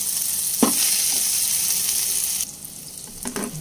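A ground paste of yardlong beans, onion, garlic and shrimp hitting hot oil in a pan, a loud steady hiss that drops off abruptly, with a few soft knocks as it is stirred.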